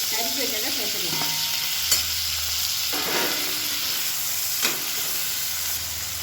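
Chopped onions and two medium tomatoes fry in oil in a pan for tomato rice, giving a steady bright sizzle with occasional scrapes and clinks as a spoon stirs them, close and continuous.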